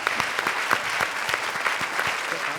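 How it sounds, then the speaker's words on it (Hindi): Applause from a comedy show's studio audience, a steady dense wash of many hands clapping at close range, with no talk over it for the full stretch. "जोरदार तालियां शान शकील के लिए।"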